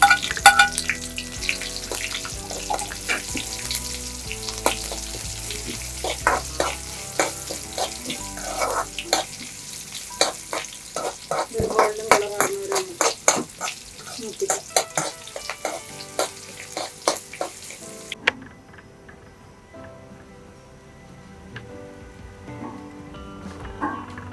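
Chopped shallots and curry leaves fry in hot oil for a bitter gourd and mango curry, crackling and sizzling with frequent stirring clatter that ends in a quieter stretch of soft spatters.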